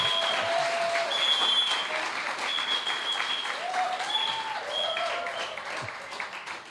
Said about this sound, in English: A round of applause for Mr. Harrow, who will address you right now.